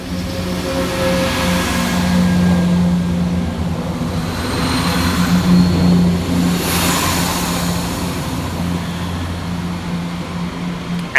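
ScotRail class 170 diesel unit 170432 pulls out of Haymarket station in Edinburgh on the 08:06 Waverley to Dundee service. Its engine drones steadily and swells as it accelerates away, with a sustained low hum and no voices.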